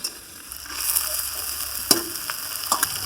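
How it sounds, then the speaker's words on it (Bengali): Banana flower added to fried spices in oil and stirred, a bright crackling sizzle that rises after a quiet start, with a couple of sharp scraping strokes, nobody speaking. "মশলাটা কষা হয়ে গেছে, এইবার মোচাটা দিয়ে দেব।"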